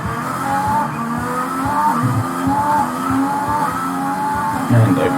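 Race car in a driving video game braking and cornering, with a loud continuous engine drone, pitch shifts and tire squeal, and a voice talking quietly underneath.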